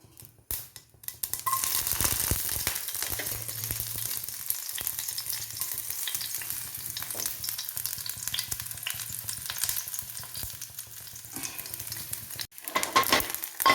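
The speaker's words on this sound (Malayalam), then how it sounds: "കടുക് പൊട്ടുന്നുണ്ട് നമുക്ക് ഉള്ളിയും കരിയാപ്പിലയും ഇട്ട് കൊടുക്കാം" Mustard seeds crackle and pop in hot oil as onion and curry leaves go in, a steady close sizzle for a Kerala-style okra and ivy gourd mezhukkupuratti, running continuously with brief scraping stirs and no talk.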